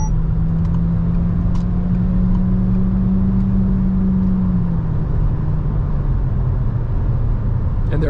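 A 2022 Peugeot 3008 GT Hybrid plug-in with 300 horsepower accelerates hard at full throttle, its engine drone rising and then dipping over a loud, continuous road roar heard from inside the cabin.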